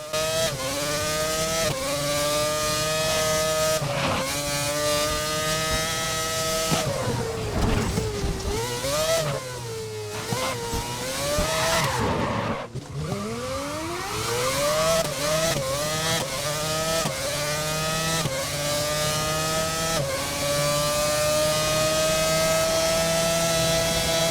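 A Renault F1 R26 race car engine roars through a racing lap in GRID, loud and close, with high revving pitch repeatedly climbing and dropping through gear changes and braking, heard alone without talk.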